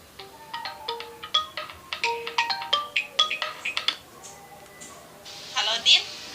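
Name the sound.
phone ringtone during call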